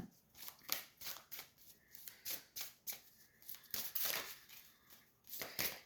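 Close, soft shuffling of a thick deck of tarot cards, rapid papery flicks and riffles repeating in uneven bursts for several seconds.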